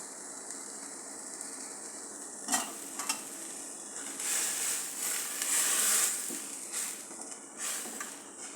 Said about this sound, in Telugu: బాగా మరుగుతుంది కదా